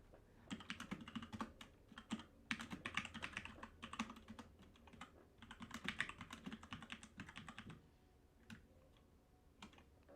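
Computer keyboard typing during a coding session, a dense run of rapid clicking keystrokes in bursts with brief pauses, close and fairly loud, no talking.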